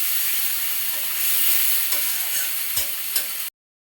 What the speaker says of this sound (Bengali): এখন সুন্দর করে মিশিয়ে নিব।